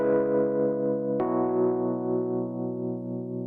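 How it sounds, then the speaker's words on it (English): Electric piano with distortion and tremolo playing sustained, buzzy chords, with a fresh attack partway through that decays slowly, heard alone with no talk. "A swampy timbre might be best described by the instrument of an electric piano, with some distortion and an effect called tremolo,"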